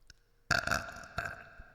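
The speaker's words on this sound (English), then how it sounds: "I have to burp" A single loud, close burp erupts after a brief quiet, a raspy belch that trails off, followed by a smaller second gulp.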